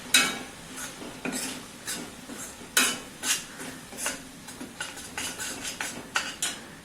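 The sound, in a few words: stirring and sautéing masala with fried onion in a pan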